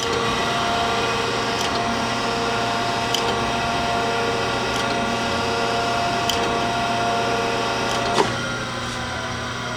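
A 10 by 24 inch Gallmeyer & Livingston hydraulic surface grinder makes a series of back-and-forth passes over a workpiece. A steady mechanical hum runs throughout, with faint ticks at regular intervals as the table reverses.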